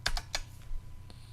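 Brief burst of typing on a computer keyboard while entering code in a Java programming editor: three or four quiet, crisp key clicks in quick succession, close and alone.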